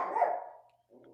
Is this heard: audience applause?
no